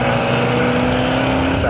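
A 1964 Chevrolet Bel Air drag car with a 490 cubic inch big block, ProCharger and nitrous rumbles loudly and steadily nearby at a drag strip, with a voice talking over it.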